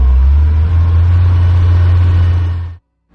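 A Jeep CJ engine runs close by, a loud, steady low rumble that holds for nearly three seconds and then cuts off abruptly into silence.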